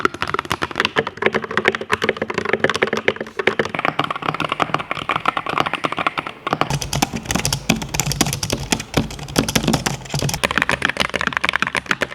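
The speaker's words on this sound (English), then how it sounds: "a sound test montage of my different keyboards" Typing on several different mechanical keyboards clatters continuously, fast and crisp, with the key sound changing partway through as another board takes over.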